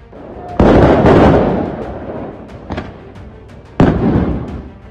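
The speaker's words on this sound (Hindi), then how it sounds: "लगातार बम और गोले फूट रहे हैं" Bombs and shells bursting at night in Al-Tur, Jerusalem, during Israel-Hamas clashes, heard as loud booming blasts at the start and near the end, with a smaller pop between, echoing over background noise.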